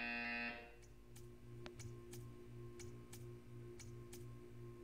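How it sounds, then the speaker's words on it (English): Buzzer in the Portal video game, a brief loud electronic buzz at the start followed by a quiet steady ticking with a low pulsing hum. "You will hear a buzzer."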